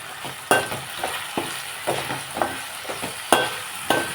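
Potato slices frying in oil in a pan for a potato fry, with a steady soft sizzle broken by repeated sharp spatula clinks and scrapes every second or so, close and fairly loud.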